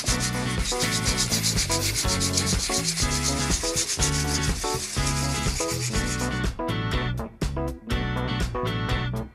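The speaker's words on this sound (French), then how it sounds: "Un ponçage à sec de toutes les surfaces est effectué avant la deuxième et la troisième sous-couche." Before painting, a car body is dry sanded by hand in brisk, rhythmic back-and-forth rubbing strokes, loud and close. The strokes grow more separated and choppy toward the end.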